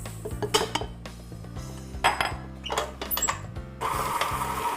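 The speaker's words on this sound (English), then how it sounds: "So cream cheese, sour cream, and our sugar, and we're going to just start whisking." Cream cheese, sour cream and sugar whisked in a bowl for a caramel pecan pumpkin cheesecake, a close run of clinking, scraping strokes against the bowl that pause and restart, ending in a steadier stretch of mixing.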